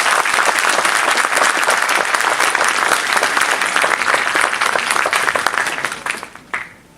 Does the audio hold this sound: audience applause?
yes